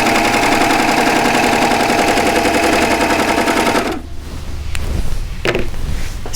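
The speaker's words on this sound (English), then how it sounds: "Has no trouble sewing through 2 layers of heavy Levi denim." A serger runs fast and loud, stitching through two layers of heavy Levi denim in a steady rapid clatter for about four seconds, then stops, leaving a few faint handling sounds.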